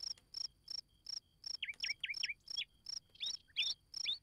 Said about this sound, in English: The meadow at dusk. Can you hear the birds?